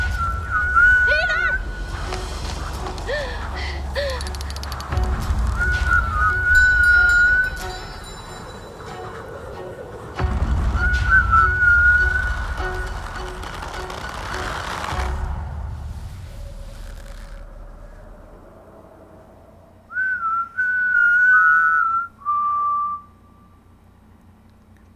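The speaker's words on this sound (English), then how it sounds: "I'm going to whistle along as well" A person whistles a melody in clear, wavering tones over a backdrop of trailer music and effects, the whistling returning in short phrases near the end.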